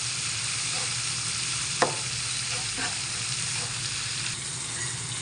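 Mustard paste fries in a pan with a steady, close sizzle and faint scraping of stirring, one sharp tap of a utensil partway through.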